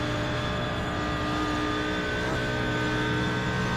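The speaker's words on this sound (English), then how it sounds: "If you just heard the revs rise" An Audi R8 GT3 race car in a driving game at Bathurst gives a sustained, steady engine drone as it runs down the Conrod Straight, loud and unbroken with a slight rise in pitch.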